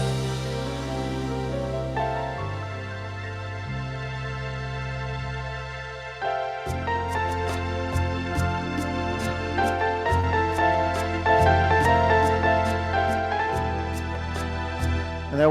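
A home keyboard plays a song on an arranger style, sustained chords over bass changes that open into a fuller rhythmic accompaniment with crisp percussion ticks, steady and close with no talking.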